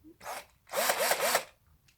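A power drill whirs in two short bursts, a brief spin and then a longer run with wavering pitch, close by and alone.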